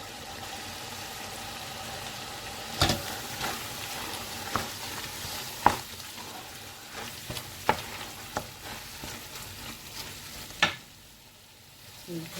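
Spinach sautéing in a pan, a soft continuous sizzle with a handful of sharp clinks and scrapes from a utensil as the leaves are stirred at irregular intervals, close and unaccompanied by talk.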